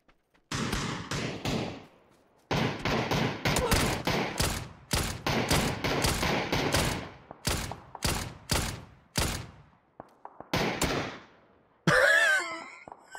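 Gunfire in the video game PUBG: rapid bursts of automatic shots in a dozen or so clusters separated by short pauses, loud and close, ending with a sharper distorted impact.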